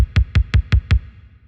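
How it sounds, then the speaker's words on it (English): Five punchy drum-machine kick hits land evenly in a beat, deep and booming with a short decay, playing alone with no other instruments or voices. "But I still have the kicks, which sound like this now."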